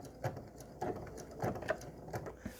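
A standard sewing machine stitching embroidery makes quiet, rhythmic bursts of mechanical clatter, several short runs of stitching separated by brief pauses.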